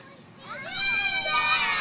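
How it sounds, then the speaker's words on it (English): A group of young children cheer "yay" together for a construction worker digging a hole, a bright rising chorus of high voices that swells and holds for a moment. "Any group of kids saying yay sounds exactly like this."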